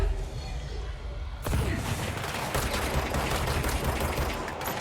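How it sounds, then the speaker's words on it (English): Grenade launcher fire in the video game Control: a quieter lead-in gives way to a sudden loud burst, then a dense barrage of blasts and crashes that keeps going. "Freaking grenade launchers, bro."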